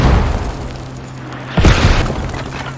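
Mortar rounds landing near a radio in the video game Squad, a deep booming blast after a rumbling stretch of distant battle noise, loud and heavy with a short rolling tail.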